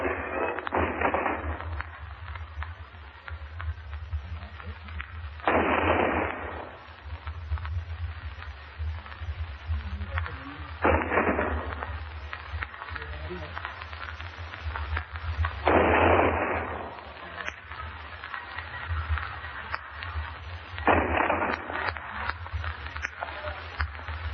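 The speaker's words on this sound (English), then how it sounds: "19 guns we just listened to for the salute for Secretary Wilbur" A 19-gun salute for the Secretary beside the docked Memphis booms at even intervals of about five seconds, muffled and thin as heard through an old radio broadcast.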